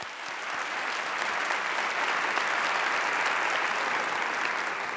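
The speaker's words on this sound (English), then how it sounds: "Let's give them a round of applause as well" Sustained audience applause fills a celebration hall at a student program event, steady and dense from start to finish with no speech over it.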